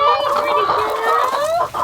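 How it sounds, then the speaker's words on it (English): Chickens cluck and chatter close by in a desert farm flock, hens taking dust baths: steady loud overlapping clucks and drawn-out calls with no break. "I got new chickens taking dust baths."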